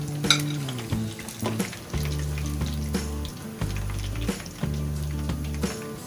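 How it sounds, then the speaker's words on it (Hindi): Fish fries in hot oil in a pan with a close, steady sizzle, and repeated stirring and scraping knocks land at irregular intervals above it. No one speaks. "इसी तरीके से हम सारी फिश फ्राई कर लेते हैं"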